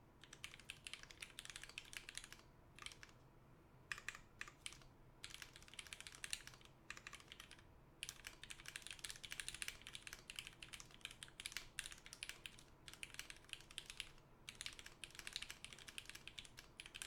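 Continuous typing on a TGR Alice mechanical keyboard with retooled Black switches, a close, steady patter of clacky keystrokes broken by brief pauses, heard alone.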